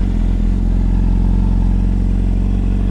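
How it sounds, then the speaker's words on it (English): A modified 2008 Honda CBR600RR with a full Arrow header system and slip-on exhaust idles warm and close, a loud, steady low burble with a fast, even pulsing throb. "This is going to be an engine sound test."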